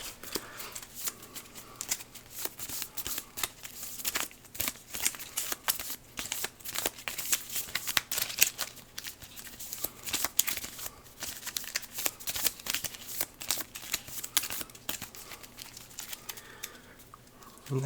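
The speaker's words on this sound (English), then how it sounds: "Alright, shuffle up the turn order deck." A deck of board game cards, the turn order deck for Aeons End, is shuffled continuously at close range, giving dense papery riffles and flicks with a steady low hum beneath and no voices.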